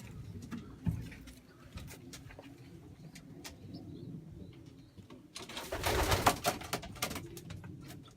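Racing pigeons in a loft in the Netherlands, with soft low cooing throughout and a louder burst of flapping wings and shuffling partway through, close by and without talk.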